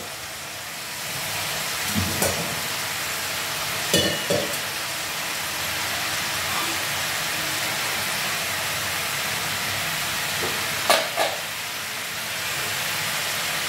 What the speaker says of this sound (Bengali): একটুখানি এটা ফ্রাই হোক।